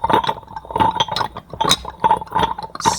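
Soft, close clinks of glass from an ASMR session, repeating every half second or so in gentle taps with light rattling between them and no talking.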